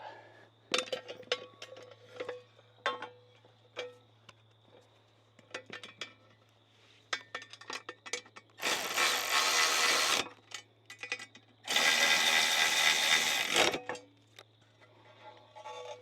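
Bolts are tightened on a Flyway 180 auto clay pigeon thrower during assembly, with scattered metallic clicks and clinks of a wrench and two longer bursts of ratcheting or rattling, close by in a quiet room, with no talking.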